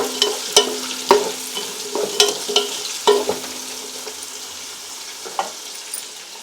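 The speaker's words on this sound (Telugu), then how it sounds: "ఆనియన్స్ బ్రౌన్ కలర్ వచ్చే వరకు వేయించుకోవాలి" Onions sizzle in hot oil with whole spices such as cardamom, a steady frying hiss broken by repeated sharp clinks and scrapes of a spoon stirring the pan.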